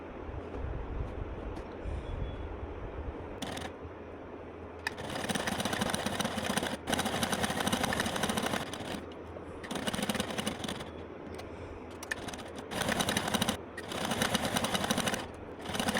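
A sewing machine stitches the inner seams of a farshi salwar, running in loud, close bursts of rapid mechanical whirring separated by short pauses.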